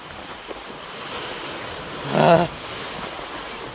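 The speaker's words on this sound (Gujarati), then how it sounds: "હવે વરસાદ જ એટલો આવે છે અને પવન વિટોળ્યો જો આડોવળો ઘુમરા લે છે" Heavy rain lashes down amid strong swirling wind in a damaging storm, a continuous low roar that swells briefly into a louder gust partway through before settling back.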